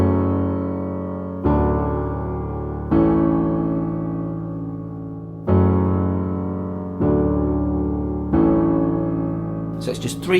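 Piano playing the second part of a chorus, a series of sustained chords struck at steady intervals and left to ring and fade, close and clear with a faint noise at the end.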